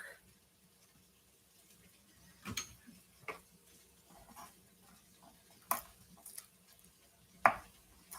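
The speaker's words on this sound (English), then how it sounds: "we got to get this garlic chopped up for the black bean soup" Knife chopping garlic cloves for black bean soup in a home kitchen, a few sparse sharp taps spread apart over a low room hum, faint and irregular.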